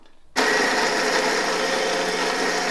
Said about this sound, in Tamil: இப்போ நம்ம அரைச்சிடலாம். நைஸ் பேஸ்ட்டாக அரைக்கணும்.